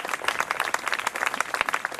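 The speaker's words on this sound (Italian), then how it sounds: "applausi per la Sansone" An audience at a theatre show breaks into lively applause, many hands clapping in a dense, fairly close burst that holds steady for about two seconds.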